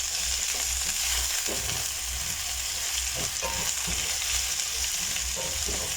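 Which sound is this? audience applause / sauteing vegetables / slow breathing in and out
sauteing vegetables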